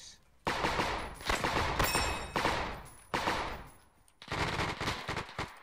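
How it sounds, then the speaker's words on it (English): Machine gun fire in an ArmA 3 World War II campaign battle, several loud sustained bursts separated by short pauses, close and dominant. "That machine gunner's still up."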